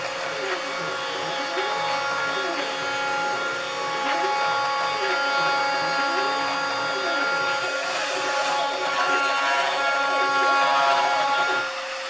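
Machine tool cutting a locating pin hole for the hub of a 2-inch scale Fowler Showman's traction engine, a steady whirring drone with a rhythmic wavering tone throughout, close and continuous, with some talk over it.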